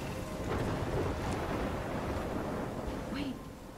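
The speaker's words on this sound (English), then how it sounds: "I'm trapped in a storm?" A thunderstorm with rain in the video game Life Is Strange: a loud, continuous rumble of thunder over steady rain noise, fading slightly toward the end.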